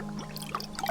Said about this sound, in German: Ich habe das leere Fläschchen mit Wasser gefüllt.